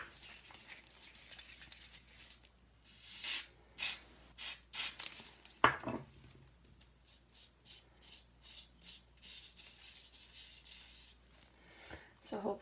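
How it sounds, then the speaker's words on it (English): Aerosol adhesive sprayed onto an ostomy ring in a few short, bright hissing bursts, close and fairly soft, amid quiet handling sounds and some talking. "I'm going to spray it with a little bit of adhesive."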